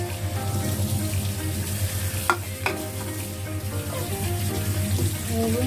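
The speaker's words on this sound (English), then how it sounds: "We'll rinse the prawns." Prawns being rinsed under a running kitchen tap: a steady rush of water splashing into a sink, with a couple of brief knocks and clatters partway through.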